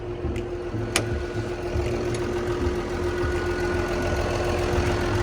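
A Komatsu WA380-6 wheel loader's turbocharged diesel engine idles steadily with a low, rumbling drone and a faint constant whine, close by, with a couple of brief ticks near the start.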